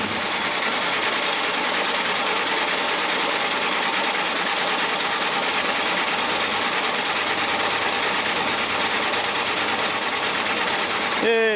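An electric fuel pump on a Jeep Flatfender runs steadily with a constant, fast buzzing whir that stays loud and even throughout, ending with a brief chirpy change right at the end.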